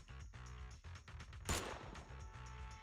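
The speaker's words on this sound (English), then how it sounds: "The sound of gunfire rings out," Gunfire in the video game Who Is Jane Doe?, loud and dense like a fusillade over the game's music, with one sharp, heavy shot standing out near the middle.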